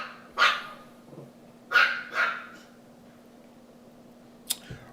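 A new puppy and a Chihuahua barking indoors, three sharp yappy barks in quick succession followed by a brief fainter yip, close and loud against a quiet room with a low steady hum.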